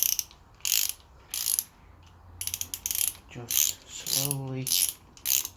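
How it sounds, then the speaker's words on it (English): Ratcheting clicks from a torque wrench tightening 10mm clutch pins to 9 Nm in a crisscross pattern on a Kawasaki ZX-10R slipper clutch, coming in short close bursts with a brief spoken remark partway through. "Gonna need a good old little torque wrench, 10mm pin. You're gonna torque these down to 9 Newton meters."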